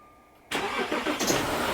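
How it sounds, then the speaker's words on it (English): An Audi Q7 with a turbo underboost fault is started after a half second of near silence. The engine catches abruptly and settles into a loud, close, steady running sound with slight fluctuations. "So as you can hear, the engine is running."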